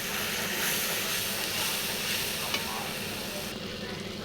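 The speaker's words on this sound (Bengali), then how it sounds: "এবার দেবো হলুদ, নাড়াচাড়া করে নিই।" Soybean and potato curry sizzles in hot oil as turmeric is stirred in, giving a continuous close frying hiss with scraping stir strokes and no talking.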